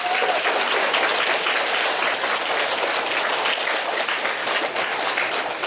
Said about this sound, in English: Can we give a round of applause to our color guard